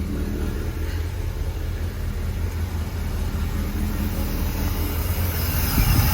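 A 1968 Chrysler Newport V8 with carburetor fuel-flow trouble idles steadily after cranking, a continuous low rumbling engine drone held at an even level throughout, with a slight swell near the end.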